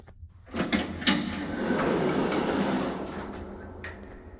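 A long, grinding creak like a heavy door slowly opening in the video game Garten of Banban, with a few knocks at the start and a rumbling, scraping drone that fades.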